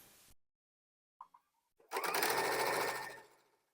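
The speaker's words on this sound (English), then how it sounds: "I'll line that up and sew those together" Sewing machine stitching quilt fabric pieces together for a table runner: a few small clicks, then a steady close motor whir for about a second and a half before it winds down.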